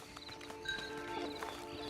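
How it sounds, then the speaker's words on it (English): Horse in the Red Dead Online video game giving a soft neigh with clip-clop hoof sounds, fairly quiet over a steady tonal in-game ambience with no talk. "Just get on the horse when you're good and ready"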